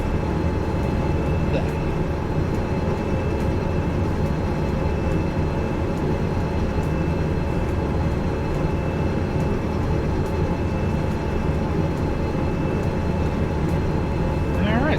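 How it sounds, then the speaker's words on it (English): Two locomotives hauling roughly 1,000 tons of freight uphill in Derail Valley: a steady, loud drone of diesel engines and rolling wagons that holds unchanged for fifteen seconds, with a faint voice underneath. "So these 2 locomotives are more than enough to get up this hill."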